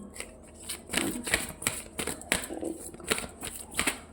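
Tarot cards being shuffled and drawn by hand, a quick run of crisp riffling flicks and soft slaps, close and fairly loud, repeating in short bursts over a few seconds.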